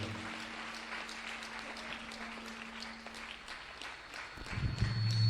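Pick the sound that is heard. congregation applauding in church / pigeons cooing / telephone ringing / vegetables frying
congregation applauding in church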